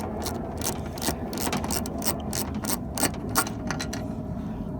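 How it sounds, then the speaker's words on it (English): A hand ratchet clicks rapidly and steadily while backing out a 10 millimeter bolt on a Toyota 4Runner door, close and fairly loud with no talking. "So I'm gonna go ahead and take this bolt out."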